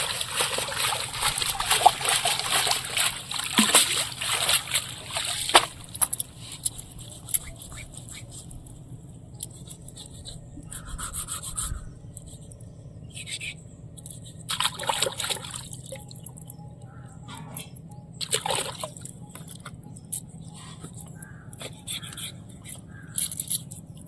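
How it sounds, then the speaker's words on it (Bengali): Shol fish is rinsed in water, with soft intermittent splashes and trickles, denser early on and then in sparse scattered bursts over quiet background. "মাছটা এবার ভালো করে ধুয়ে দেবো।"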